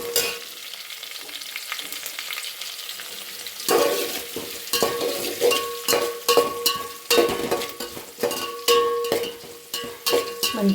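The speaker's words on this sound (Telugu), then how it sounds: "మంచిగా ఫ్రై కానివ్వాలి." Onions and green chillies frying in a pan, with a steady sizzle and repeated sharp scrapes and clinks of a spatula stirring against the metal, loud and close, starting quiet and turning busy after a few seconds.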